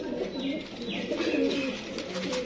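Teddy pigeons and a black-faced pigeon coo in low, throaty rolling calls, overlapping and continuing steadily at close range with a faint chirp mixed in.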